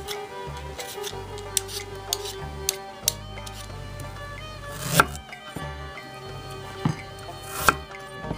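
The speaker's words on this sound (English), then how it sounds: "I'm just going to use about a 1-inch by 1-inch slice and chop it up just a little bit." A knife chops a small slice of ginger on a cutting board, a few sharp, distinct knocks scattered over a steady background hum, fairly close and clear.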